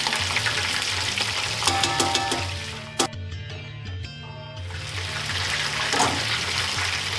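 Fish frying in good hot oil for a Friday night fish fry, a continuous near bubbling sizzle with occasional clinks and a brief sharp knock, under soft background music.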